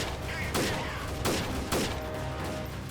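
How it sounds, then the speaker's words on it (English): Gunfire in the video game Freeman Guerrilla Warfare, with three loud bursts of rapid shots at roughly even intervals over a constant background of game noise. "mostly just shooting them full of holes with bullets at the moment"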